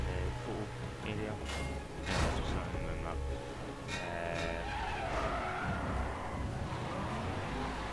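Cars in the racing game Need for Speed World spin out and skid, with tire screeches and engine noise over a busy, continuous game soundscape, while a voice talks throughout.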